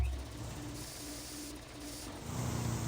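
A steady spray hiss with mechanical whirring plays as a car gets resprayed in a Pay 'n' Spray garage in Grand Theft Auto IV, fairly quiet and continuous with a shift partway through.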